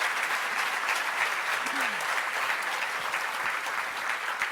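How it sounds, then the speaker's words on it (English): Dense, steady applause from a large room of attendees at a law enforcement awards ceremony honoring nominees, continuous and even throughout. "A round of applause for the nominees."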